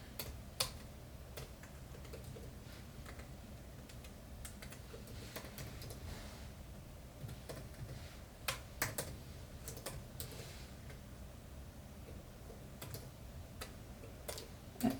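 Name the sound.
typing on a computer keyboard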